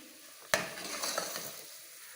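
A spoon scrapes and stirs potato samosa masala in a little oil in a pan, starting with a sharp clatter, then soft scraping and a light sizzle that fades.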